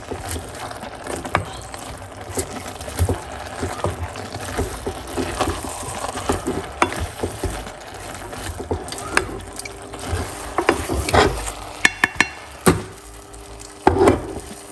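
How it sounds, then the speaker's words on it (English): Steamed cabbage being folded into liquid in a pot for a Jamaican dish: irregular close scraping, clacking and soft splashing from a utensil working through the leaves, with no talking. "We're gonna do fold it in, alright?"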